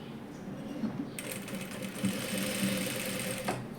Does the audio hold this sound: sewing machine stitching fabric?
yes